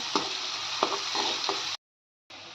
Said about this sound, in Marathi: तेलामध्ये कांदे टाकून घेते कांदे छान फ्राय करून घ्यायचे